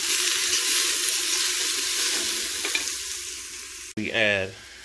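Chili simmering and frying in a pot as chili powder is stirred in, a loud steady sizzle with a scrape of the spoon, cutting off abruptly near the end to a short different sound.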